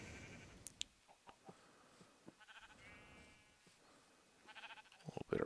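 Several short, faint sheep bleats from Minecraft in hardcore vanilla survival, scattered among soft game ambience with quiet clicks, no voice over them.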